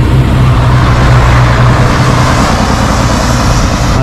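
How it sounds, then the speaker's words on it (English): A bus passing along a street in Kangerlussuaq, Greenland, heard as a loud, steady engine rumble with low droning tones and broadband road noise filling the whole stretch, with no talking. "let's wait for this bus to go. It's noisy."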